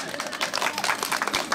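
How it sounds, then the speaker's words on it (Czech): First-graders clapping together in a classroom, a short burst of quick, uneven hand claps from a small group, close and lively. "Zatleskáme."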